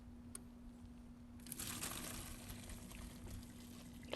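Remaining water draining off cooked pasta for shrimp Alfredo, a soft pouring, splashing wash that starts after a quiet moment and runs steadily to the end over a constant low hum.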